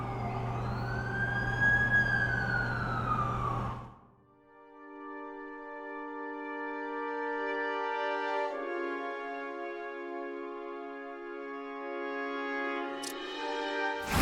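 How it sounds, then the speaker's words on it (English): A wailing ambulance siren in The Amazing Spider-Man 2 video game, loud and close at first with a deep rumble beneath, then cutting to a sustained multi-tone chord that holds steady with brief shifts. "That's the ambulance I called."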